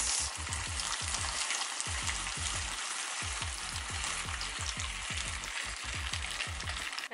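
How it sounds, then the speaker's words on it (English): Macaroni noodles cooking in a pot of boiling water: a loud, close, steady bubbling with rapid irregular pops and low thumps, heard alone without speech. "Now that the water is boiling, we add the beautiful"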